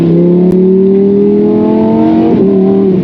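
A Lamborghini Huracan V10 howls loud and close in Corsa mode, its pitch climbing steadily under hard acceleration before a quick manual upshift blips and drops the revs, then the engine pulls on again.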